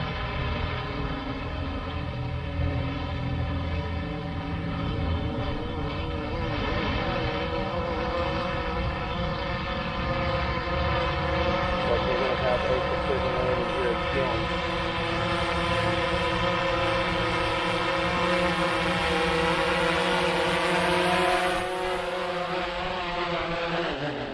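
A DJI Phantom 4 Pro V2.0 quadcopter drone comes in to land, its rotors giving a steady, loud, close buzzing whine with stacked harmonics that holds throughout and shifts slightly in pitch near touchdown.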